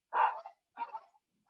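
Two short bursts of dog barking, close and fairly loud, separated by a brief pause, with no talking over them.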